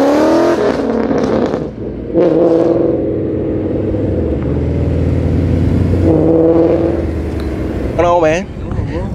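Cars cruising together on a Chicago backroad, engines rumbling and revving hard in loud, close bursts that swell and ease off, with people talking over the noise.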